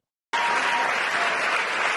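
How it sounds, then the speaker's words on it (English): A large audience claps in dense, sustained applause that bursts in abruptly after a brief silence and holds steady and loud throughout. "All these trained seals out there just clapping"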